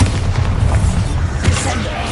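Bombarda spell blast in the Hogwarts Legacy video game: a dense, booming explosion rumble lasting a couple of seconds, loud and close with heavy low-end.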